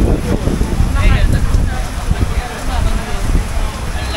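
Heavy rain pours and wind gusts loudly around an open spot in Bangkok, a dense, rough wash with buffeting wind on the microphone, while people talk under it.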